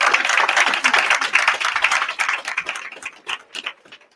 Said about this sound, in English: Could y'all clap it up for the Wayne Chamber of Commerce?